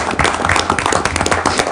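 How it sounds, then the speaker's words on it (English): A council meeting audience gives a round of applause, dense steady clapping from many hands close by, without a break and with no talking over it. "that gets a round of applause"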